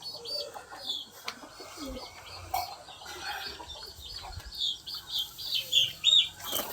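Pet pigeons flap their wings while being caught and put into a coop, with bursts of wing beats, rustling and faint cooing, close by and growing louder toward the end.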